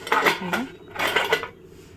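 The metal lid of a pressure cooker holding broken wheat and water is fitted and closed, making two close bursts of clanking and scraping metal with a short pause between.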